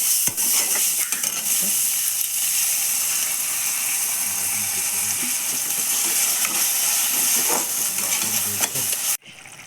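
Poppy seed paste frying with capsicum and onion in a village kitchen for rui posto, a steady hissing sizzle broken by repeated scraping stirs of the spatula, close and continuous until it cuts off near the end.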